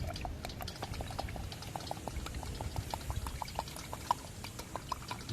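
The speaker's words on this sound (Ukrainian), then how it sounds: "Далі заливаю їх водичкою, вони в мене будуть грітися деякий час." Water is poured over soybeans in a pot, a quiet, steady trickle with small bubbling pops and drips throughout, close and faint.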